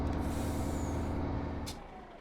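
A truck engine in Farming Simulator 22 rumbles steadily at close range, then winds down after a brief air-brake hiss as it is switched off, leaving a quieter tail.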